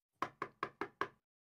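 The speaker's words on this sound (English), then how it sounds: "Suddenly, there was a knock at the door." Five firm, evenly spaced knocks on a door, loud and close, then silence.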